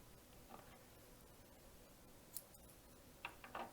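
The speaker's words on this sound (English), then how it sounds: "And now I'm gonna cut the yarn," Scissors cut crochet yarn on a small snowman piece, producing a few faint, close snips near the end against a soft hiss.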